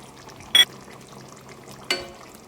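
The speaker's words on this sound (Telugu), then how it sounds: "ఇప్పుడు ఆల్రెడీ ముందు నానపెట్టుకున్న జీడిపప్పును అయితే దీంట్లో వేసుకోవాలి వాటర్తో సహా." Soaked cashew nuts and their soaking water are tipped into a pan of chicken curry, giving two short, loud splashing bursts separated by a quiet stretch.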